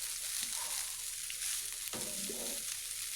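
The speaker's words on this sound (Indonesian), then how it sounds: "ini dioseng-oseng sampai merata ya, diaduk-aduk sampai merata nasinya." Rice being stir-fried and stirred in a pan for a simple breakfast fried rice, giving a steady, close sizzle with spatula scrapes and a brief louder stirring burst near the end, with no talking.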